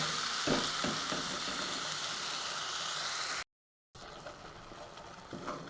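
Spice paste fries in a pan with a soft, continuous sizzle and a few stirring clatters early on, while cooking a paneer curry with potato, peas and tomato; the sound drops out briefly and then returns.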